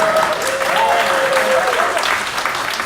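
Applause from a housing panel audience fills the room, steady and loud for about three seconds, with a faint tone or voice line running underneath.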